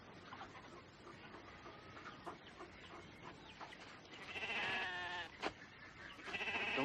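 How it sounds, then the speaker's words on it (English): Sheep bleat here and there amid a soft farmyard murmur, with a couple of louder, nearer bleats toward the end. "Now these are sheep, boy. Nothing but dumb sheep."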